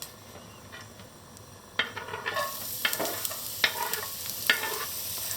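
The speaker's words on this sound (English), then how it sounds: "Now we add a little bit of olive oil into a pan and then we put" Garlic sizzling in olive oil in a pan, a soft frying hiss that swells after a quiet start, broken by several sharp scraping and clinking stirs of a utensil against the pan.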